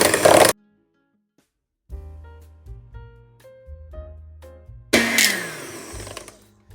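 Electric mixer whipping Russian buttercream until fluffy and thick, heard as short loud whirring bursts at the start and again at the end, with quieter tonal sounds between them.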